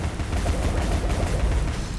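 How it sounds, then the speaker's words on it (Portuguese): Gunfire in the video game Alice: Madness Returns, a dense rapid stream of shots and booms that stays loud and continuous with no pauses. "Eu não acerto os tiros."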